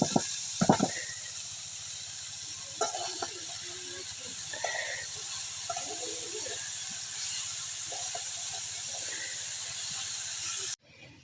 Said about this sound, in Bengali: ফুলকপি, নতুন আলু আর ফুলকপির ডালি এটি আজকে ভাজি করব।